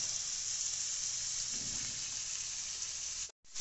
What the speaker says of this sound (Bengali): এরপরে কেটে রাখা নোটে মাছগুলো আমরা দিয়ে দিচ্ছি কড়ার মধ্যে।